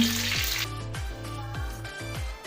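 Egg-filled pempek fish cakes fry in hot oil, a steady close sizzle with bubbling and occasional clatter of stirring, continuous and moderately loud with no talking.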